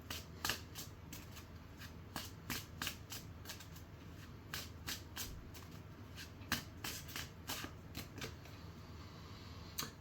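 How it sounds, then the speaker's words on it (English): Tarot cards being shuffled and drawn, a run of crisp, close flicks and slaps in an uneven rhythm, fairly quiet with no voices. "Get a couple more cards."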